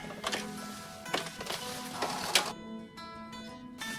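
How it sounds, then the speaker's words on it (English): A domestic sewing machine runs a straight gathering stitch at stitch length 4 along the top of a sleeve for a historical nightgown, giving a few short bursts of rapid ticking with brief pauses between them, close and moderately loud. "I'm going to use a straight stitch set on 4. Just run a gathering thread at about 5/8."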